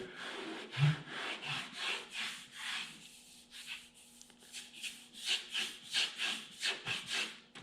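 Sandpaper rubs over sprayed primer in quick rhythmic back-and-forth strokes, close and clear, with a short pause midway before the strokes resume.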